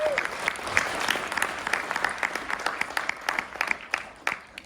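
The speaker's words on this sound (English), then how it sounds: "Big round of applause for Tori, please." Keynote audience applause at a medical device conference, a moderate crowd clapping steadily with individual claps standing out as it gradually thins toward the end.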